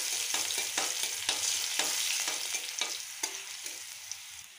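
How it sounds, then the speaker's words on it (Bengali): Crushed garlic frying in oil, a continuous close sizzle punctuated by repeated stirring scrapes of a spoon against the pan at a loose, regular rhythm. "এটাকে একটু লাল করে ভেজে নেব।"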